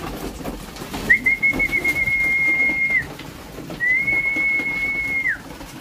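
Racing pigeons at morning feeding in a loft, giving two long steady whistled calls, each about two seconds, over a busy background of rustling and low noise.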